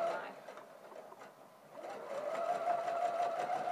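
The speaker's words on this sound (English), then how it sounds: "And this is edge stitching, so it's quite close to the seam line." A sewing machine edge stitching close to the seam line on an inseam pocket, a steady fast whirring hum that dips briefly and then runs on evenly, fairly quiet and close.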